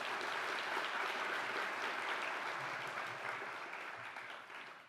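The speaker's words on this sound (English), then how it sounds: "Let's give them a round of applause." An audience at a university retreat claps in a dense, even round of applause that slowly tapers off over a few seconds, heard from a moderate distance.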